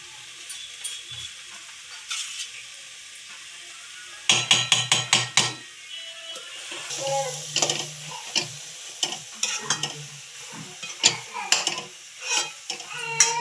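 Spicy bharit stirred in a pan after coriander goes in, with a spoon scraping and knocking against the metal in quick rapid taps, then softer irregular stirring over a faint sizzle, close and clear.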